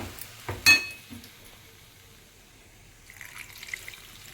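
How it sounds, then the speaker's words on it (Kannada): A pan clanks sharply, then after a quiet pause water trickles and splashes softly into it for a second or so, close by, while mixing batter for junkada vade. "ಒಂದು ಸ್ವಲ್ಪ ನೀರು ಬೇಕಾಗುತ್ತೆ, ನೀರು ಹಾಕ್ತೀನಿ ಇದಕ್ಕೆ."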